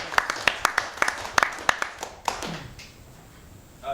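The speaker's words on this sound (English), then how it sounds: "let's give all them a round of applause" Scattered claps from a small council meeting audience honoring firefighters, a dozen or so distinct hand claps in an uneven rhythm over about two seconds before fading into room quiet.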